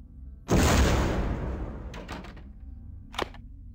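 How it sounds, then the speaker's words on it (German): Explosion in the video game Vampire: The Masquerade - Bloodlines, a sudden loud boom that rolls off into a decaying rumble, followed by a few faint debris clatters and a short sharp crack near the end. "Was war das für eine Explosion?"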